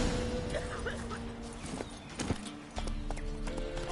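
Roach, Geralt's horse in The Witcher 3, clip-clops along with a steady run of hoof beats, a whinny and game ambience mixed underneath.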